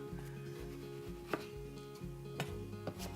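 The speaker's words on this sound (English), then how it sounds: "I'm gonna cut some red onion here nice and thin" A knife slicing a red onion thinly on a cutting board, with a few sharp chops cutting through a steady low hum, close and moderately quiet.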